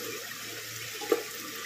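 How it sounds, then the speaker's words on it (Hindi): Water poured into a pot of goat meat curry being made with taro root (ghuiya gosht), a short splashing pour with a brief louder burst near the end, heard alone against steady background hiss. "अब इसमें पानी डालेंगे"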